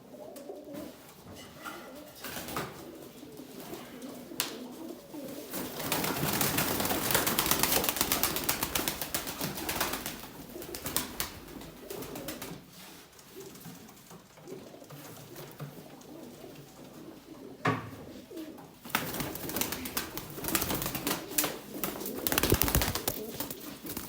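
Arab breed pigeons coo and flap their wings nearby, with soft repeated coos and bursts of wing noise rising and falling across the stretch, no talk.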